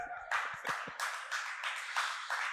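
An audience claps at a Hindi sermon, a few scattered claps first, then fuller rounds of applause that swell and fade in several short waves.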